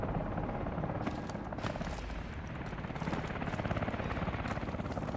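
Military helicopter in the Call of Duty: Advanced Warfare game, a dense, loud rotor and engine roar filling the scene throughout, with no speech.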